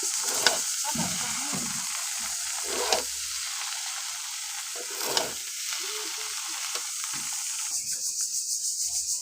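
Pasta noodles fry in a pan with a constant hiss, broken by repeated scraping stirs and occasional clacks of a utensil, ending in a rhythmic pulsing sizzle.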